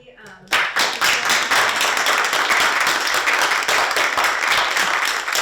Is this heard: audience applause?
yes